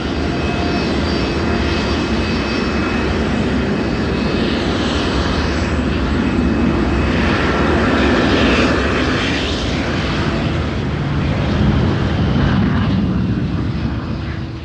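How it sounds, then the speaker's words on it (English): Airplane taking off or landing at Heathrow airport, a loud steady engine roar that fills the whole stretch, swelling slightly in the middle and again near the end. "a plane is either taking off or landing every 30 seconds"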